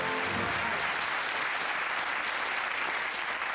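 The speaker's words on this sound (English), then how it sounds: "Let's give them a round of applause." Studio audience on a 1990 British TV game show clapping in a steady, dense round of applause that holds evenly throughout without talk.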